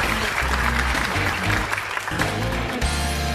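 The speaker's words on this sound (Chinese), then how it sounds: "掌声送给杨长青。" A studio audience at a Chinese stand-up comedy show applauds for Yang Changqing, with loud, dense clapping running throughout the short stretch.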